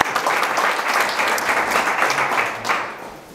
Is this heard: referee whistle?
no